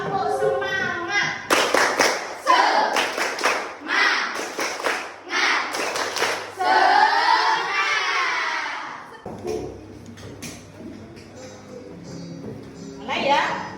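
A sixth-grade class in a science lesson claps the rhythmic tepuk semangat, bursts of sharp hand claps in quick patterned groups mixed with children's chanting voices, then pauses and resumes briefly near the end.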